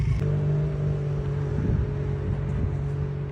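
A 125cc motorcycle engine runs steadily in first gear on a training surface, a close, continuous low drone with slight surges in revs and no talking.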